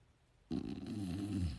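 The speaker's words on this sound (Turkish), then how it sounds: "O nasıl bir horlama?" Loud, close snoring starts abruptly after a short quiet moment and continues as a rough, rattling snore, with no talking.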